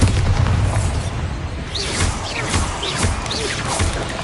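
Bombarda blasting spells in Hogwarts Legacy go off as a dense run of booming explosions and crashes over continuous rumbling battle noise, loud and close, with no talking.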